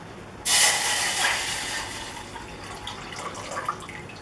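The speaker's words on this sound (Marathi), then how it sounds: "मी इकडे गॅस पेटवलाय" A gas stove burner catches with a sudden whoosh under a copper pot of water for a home kadha remedy, then settles into a steady hiss that fades slightly over a few seconds, with no talk.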